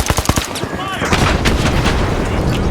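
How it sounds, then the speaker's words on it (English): A frag grenade thrown in the video game The Finals: a quick run of sharp close impacts gives way to a dense, sustained roar of explosive combat noise. "Frag grenade out!"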